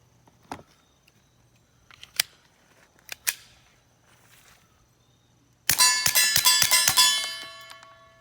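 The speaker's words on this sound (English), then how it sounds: "Dinging the steel was louder than the gun." Suppressed .22 rifle shots from a SilencerCo Sparrow ring out as a few sharp, spaced cracks, then a loud burst of bright metallic dings from a steel target rings and decays over several seconds outdoors at a range.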